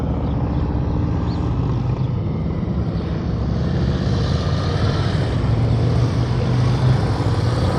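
A motorcycle engine drones steadily and close at low speed during slow-speed riding practice through cones, the throttle easing on and off under a continuous rumble with no talk.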